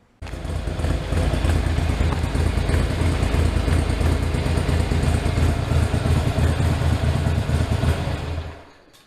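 A Harley-Davidson Sportster engine fires up and idles to warm up, a loud close uneven rumble holding steady before cutting off near the end.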